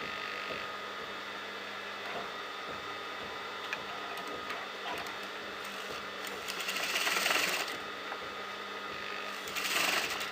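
A sewing machine runs top stitching along a garment neckline, its needle ticking in a rapid steady rhythm close by, with a few louder mechanical bursts near the end and no talking.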